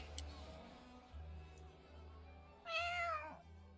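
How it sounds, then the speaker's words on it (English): A game cat lets out a single clear meow near the end, over quiet background music with faint ticks. "That's a cat."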